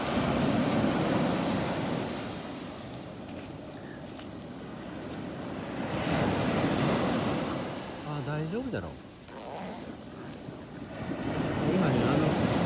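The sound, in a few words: ocean waves breaking on the beach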